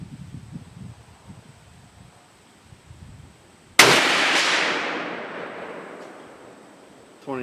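A single sharp, loud rifle shot firing a 130gr Sierra Game Changer bullet loaded with Reloader 17, cracking outdoors and trailing off in a long echoing decay, with quiet rustling before it.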